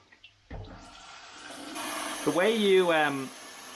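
Water runs steadily into a kettle from a tap at a home stove, a continuous close splashing flow, with a voice speaking briefly over it near the end.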